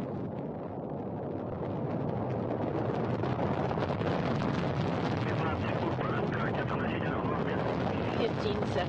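A Soyuz rocket lifts off toward the International Space Station with a deep, rising, continuous roar that thickens after the first second, while a voice speaks over the launch.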